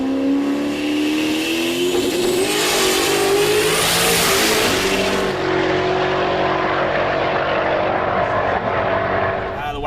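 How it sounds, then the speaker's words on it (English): A drag race wagon with a 3-speed transmission launches hard, the engine note climbing loudly in pitch before a gear change drops it, then pulling again as the roar fades away from the listener. "It's got a 3-speed in it, which is why we heard it shift again."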